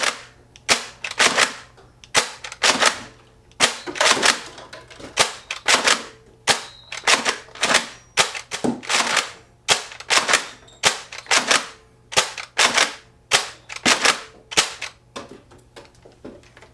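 A Nerf Raider CS-35 drum-fed blaster fires foam darts in rapid succession, each shot a sharp snapping pop with a springy clack, about thirty shots in uneven pairs and bursts over several seconds, close and loud with no voices.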